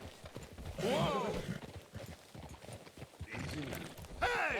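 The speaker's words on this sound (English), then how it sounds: "Get a hold of that horse, will you?" Horse hooves clopping and a horse whinnying in the Red Dead Redemption 2 video game, with two rising neigh calls over a rough, uneven rumble and some voices mixed in.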